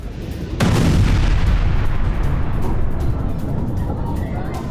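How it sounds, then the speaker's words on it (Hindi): Loud, sustained rumbling boom from a missile strike on an IRGC weapons depot, starting abruptly after a short quiet lead-in and rolling on as a dense, roaring blast that slowly tapers but stays heavy throughout. "धमाकों में तबाह हुआ आईआरजीसी का वेपन डिपो"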